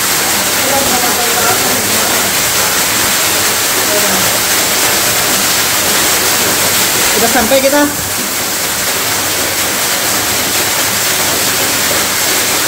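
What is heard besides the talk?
waterfall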